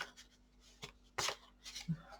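Tarot cards from an Animal Tarot deck are shuffled in quick, soft riffling bursts with light papery rubbing between them, faint and close.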